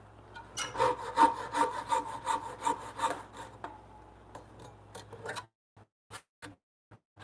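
A handsaw cuts through wood near a knot in a home workshop, with steady back-and-forth rasping strokes close up that stop partway through, followed by a few separate knocks and taps.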